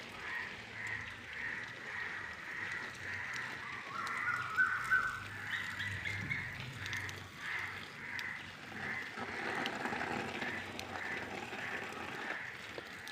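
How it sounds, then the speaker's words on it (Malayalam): Crows cawing and squabbling in an evening garden, a run of repeated harsh caws at moderate distance, some overlapping as the birds fight, over a faint low background rumble. "കാക്കകൾ അടികൂടുന്നുണ്ട് അവിടെ."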